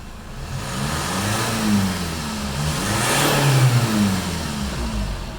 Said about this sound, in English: Just give it another rev from the front.